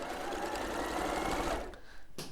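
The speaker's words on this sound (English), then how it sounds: "Now what I need to do first of all is sew these together." Sewing machine joining fabric strips right sides together for a quilt, running steadily and close for about a second and a half before stopping, with a brief clunk near the end.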